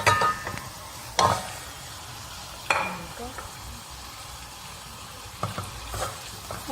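Onions sizzle in oil in a pan while minced meat is tipped in, a steady low fry broken by a few sharp scraping stirs and clatters, close by with no talking.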